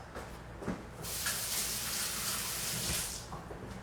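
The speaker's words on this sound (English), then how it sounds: "I'm just wash my hands real fast." A kitchen tap runs while hands are washed, a steady close hiss of flowing water that swells louder after a moment, with splashing under the stream.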